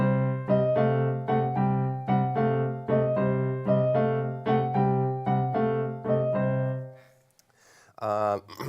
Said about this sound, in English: So together it's going to sound like this.